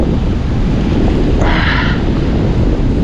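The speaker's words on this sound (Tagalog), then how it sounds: "Dinig na dinig nyo yung lakas ng alon, di ba?" Heavy roaring surf from a strong typhoon at Bucana, with deep rumbling and wind buffeting the microphone, a wave surging louder partway through.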